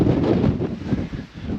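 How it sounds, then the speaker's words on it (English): Strong wind buffets a microphone outdoors during a winter overland trip in Spain, a steady loud broadband roar that swells and dips for under two seconds with no voices. "Really windy."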